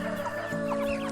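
Backyard hens cluck close by in a steady run of short, throaty calls over a low, continuous hum, with no voices.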